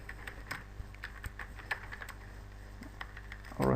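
Keys click rapidly on a computer keyboard, a dense run of light taps at close range with no talk, ending in a louder clunk.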